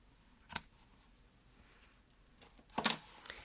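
Scissors trim thread ends on a handmade flip card, giving two quiet, crisp snips about two seconds apart in a hushed setting.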